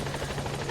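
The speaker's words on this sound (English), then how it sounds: "Support helicopter has arrived." Support helicopter arriving in the Metal Gear Solid 5 video game, a loud steady rotor thrum filling the brief moment without any speech.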